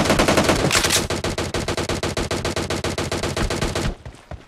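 Rapid sustained automatic gunfire from PUBG Mobile's TDM Warehouse map, loud and continuous with a dense rhythmic chatter of shots that cuts off abruptly near the end, leaving a short fading tail.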